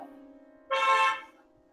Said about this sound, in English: Car horn. One Mitsubishi horn.